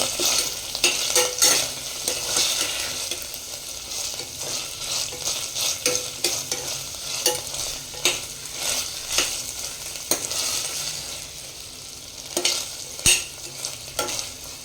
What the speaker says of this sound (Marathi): सगळ्या गोष्टी मिक्स करायच्या व्यवस्थित